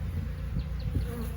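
Honeybees preparing to swarm hum at their hive in a dense, steady low drone, close and continuous, with faint individual buzzes flitting past over the mass of sound.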